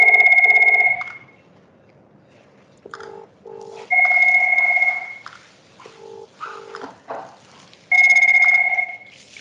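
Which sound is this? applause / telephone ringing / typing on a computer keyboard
telephone ringing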